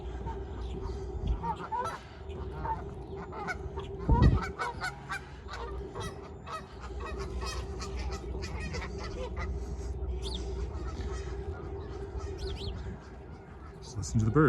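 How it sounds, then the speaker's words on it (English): Geese honking repeatedly outdoors at a lake in Regina, a loud cluster of honks with steady background bird calls and some talk mixed in. "Listen to the birds if anybody's watching."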